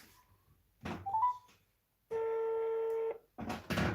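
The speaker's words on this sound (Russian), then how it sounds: "Вот я звоню" A telephone number is dialed with short tone beeps, first a brief stepped run of tones, then one long sustained tone, followed by a burst of clattering noise. The sound is close and fairly quiet, with silent gaps between the parts.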